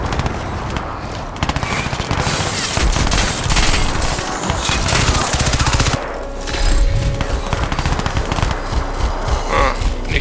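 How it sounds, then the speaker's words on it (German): Rapid bursts of gunfire in the video game Crysis 2, loud and repeated, with machine-gun rattles and brief pauses between volleys. "da kommen die Schüsse"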